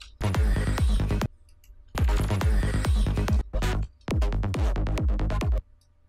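A bright psytrance synth lead plays three short phrases of plucky, gliding notes, separated by brief near-silent gaps, loud and upfront with nothing else heard.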